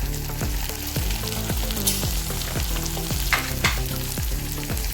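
Cluster beans (gavar) frying in oil with a dense, steady sizzle and rhythmic stirring clicks of a spatula against the pan, close and continuous throughout, with no talking.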